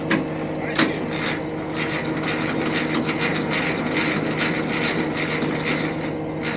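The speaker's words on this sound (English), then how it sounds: "crank that landing gear up some" Trailer landing gear being cranked by hand, a steady ratcheting, geared mechanical clicking that runs continuously and close by with no talk over it.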